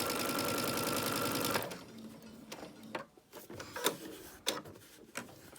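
A sewing machine stitches a seam on a child's 3-D face mask, running as a close, steady whir for about a second and a half before stopping, followed by scattered clicks and fabric handling.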